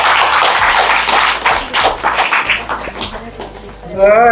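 An audience at a Tamil talk on dairy cow udder disease claps loudly for a moment before a voice takes over and the clapping fades beneath his talk.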